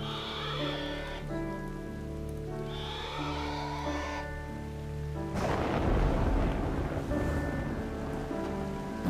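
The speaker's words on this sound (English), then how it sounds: "Oh, there's a sound you don't hear every day. Beautiful thunderclap." A deep thunderclap rolls in over steady rain inside the hunting game theHunter Call of the Wild, loud and booming in the second half, with no voices.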